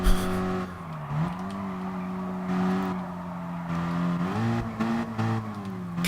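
A race car in the Gran Turismo Sport video game revs up through its gears, the engine tone climbing, dropping briefly at a shift from second to third, then rising again, loud and close with no talking.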